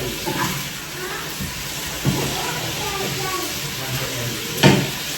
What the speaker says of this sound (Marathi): इथे मस्त आपल्या शेवग्याच्या शेंगा फ्राय केलेल्या आहेत.